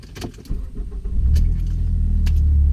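A 2016 Ford Focus SE engine cranks and catches, then settles into a steady low idle, close by, after a faint rattle of keys.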